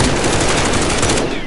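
Rapid automatic gunfire in a shooter video game, a loud, dense burst of shots running nearly continuously for about a second and a half.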